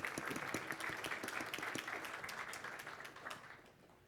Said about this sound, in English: I think we should clap for you.